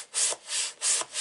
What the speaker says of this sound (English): Give it a rub from the back.